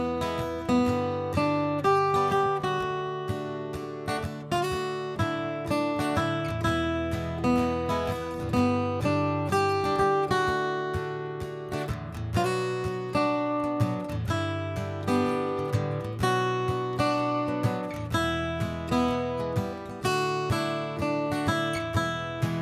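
Guitar plays the melody of a song over strummed chords in D in a steady rhythm, full and continuous, with no voices.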